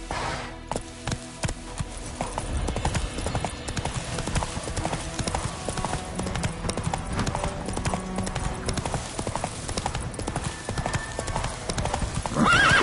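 Roach the horse galloping in The Witcher 3: rapid, steady clip-clop of hooves over background game music, with a whinny at one point.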